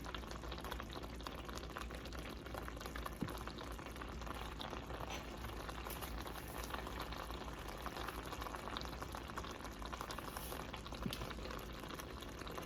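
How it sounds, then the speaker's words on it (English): Pineapple barbecue sauce simmering and cooking down in a pot, giving a steady, soft bubbling and gentle sizzle that continues evenly throughout without pause. "We're going to cook it down for just a little bit more."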